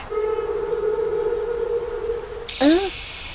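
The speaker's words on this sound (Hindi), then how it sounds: "ये तो रोने की आवाज है।" A sustained high wailing tone holds steady like a crying voice, then breaks into a rising, sobbing cry at the end.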